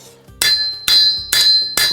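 A small hammer taps steel on an anvil for precise shaping of a forged crowbar piece. Four sharp, ringing strikes come at a steady pace, loud and close.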